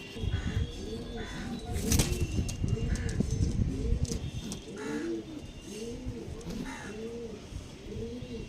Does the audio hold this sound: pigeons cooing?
yes